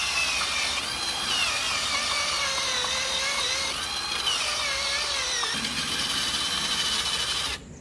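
A powered earth auger bores a hole in a garden bed, its motor whining steadily and loudly with a wavering pitch for several seconds before cutting off abruptly near the end.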